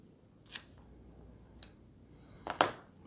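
Scissors snip through a clump of hair for tying a muddler minnow fly, giving three or four crisp, close cuts spaced about a second apart over a quiet background.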